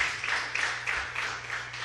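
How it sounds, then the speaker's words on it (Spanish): A church congregation at a televised Spanish-language evening service gives a brief burst of applause, a soft, steady patter of many hands in a large room. "Quiero que le demos un fuerte aplauso a la gente que nos ve a través de Canal 4"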